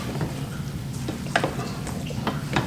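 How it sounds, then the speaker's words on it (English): Risotto is stirred in a hot pan on the stove, a steady low sizzle broken by a few sharp scraping strokes of the spoon against the pan. "Constantly stir, stir, stir for about 25 minutes."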